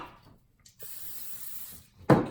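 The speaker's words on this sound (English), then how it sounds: "Cooking spray." A can of cooking spray hisses onto a non-stick pan in a steady, soft burst lasting about a second, followed by a louder knock.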